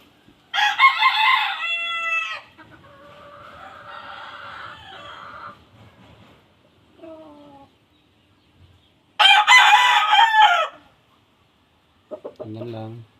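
A rooster crows loudly twice, with chickens clucking and softer calls between the crows, close by.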